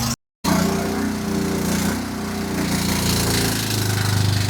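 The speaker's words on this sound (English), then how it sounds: "do you hear how it's surging?" Lawn mower engine running low on fuel, its steady roar surging and dipping in pitch over a few seconds after a brief cut at the start, loud and close.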